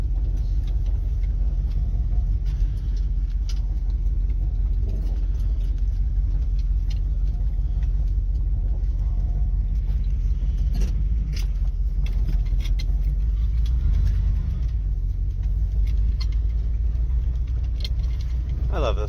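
Pontiac car engine idling steadily just after starting in a garage, a close, constant low rumble with small clinks and handling noises over it; a person speaks briefly.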